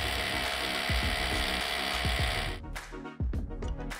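A ratchet clicks rapidly and steadily while tightening masonry bolts through a bracket into a concrete basin wall, close and loud, pausing and changing stroke near the end.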